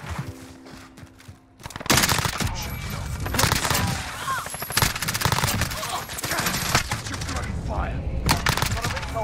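Rapid automatic gunfire bursts in a Call of Duty Modern Warfare multiplayer match with an MP7 loadout, loud and dense across most of the stretch, layered with game effects and occasional speech.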